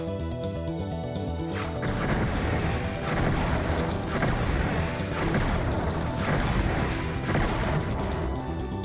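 Crossbow bolts firing in the game Heretic, Wayfarer's Tome mod, with repeated sharp thwacks and crunching impacts over a dense, loud layer of game music and combat noise throughout.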